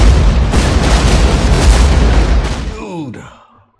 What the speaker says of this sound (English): Holy explosion.